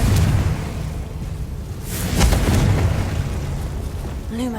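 A Confringo blasting spell goes off in Hogwarts Legacy, a deep rumbling burst that swells midway through with crackling debris over a steady low game ambience, ending on a faint high tone.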